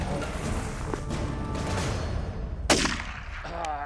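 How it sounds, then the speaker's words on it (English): One sharp rifle shot during a big game hunt outdoors, a loud, sudden crack that stands out over steady background noise and trails off quickly, with no talking over it. "so that's when I pulled the trigger and shot him, took him down."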